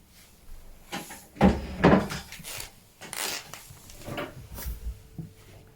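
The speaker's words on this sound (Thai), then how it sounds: "can you open the drawer" A wooden desk drawer is pulled open with a few close knocks and sliding scrapes, spread over several seconds.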